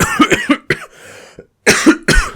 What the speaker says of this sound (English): Do excuse my coughing